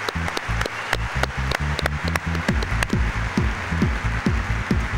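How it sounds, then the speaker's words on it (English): An audience at the PRI trade show WindTunnel event cheers and applauds for a racing legend: dense, sustained clapping with cheering that carries on through the whole stretch, with a voice heard over it. "Let's get another one of those big PRI WindTunnel special edition cheers and rounds of applause for racing legend Bob Bondurant."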